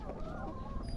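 Laying hens clucking at close range while eggs are gathered, soft low murmuring clucks running continuously under faint background noise.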